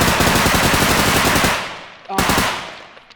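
Rapid automatic gunfire in the video game Bodycam rattles loudly and continuously, then fades, followed by another burst that trails off into echoing decay.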